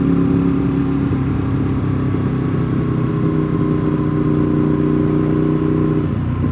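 A motorcycle engine drones steadily and loudly at a constant pace while riding behind a car on a winding road toward Deals Gap, close up with a throaty mid-pitched hum and no break.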